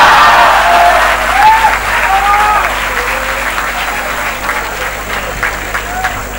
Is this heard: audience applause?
yes